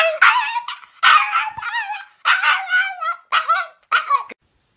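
Dog barks and yips on cue to "sing": five bursts of high, wavering howl-like yelps in a row, close and loud, with short pauses between them and no talk.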